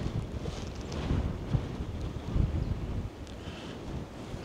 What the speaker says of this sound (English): the wind's just starting to pick up